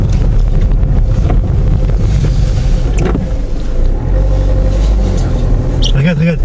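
A car's wheels spin on fresh snow, a loud, rough, continuous low roar up close with rising whine near the end, while people talk over it.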